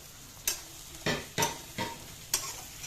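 Prawns cooking in a pan for a prawn and potato curry, with five distinct scraping stirs of a spatula at uneven intervals over a soft, low sizzle.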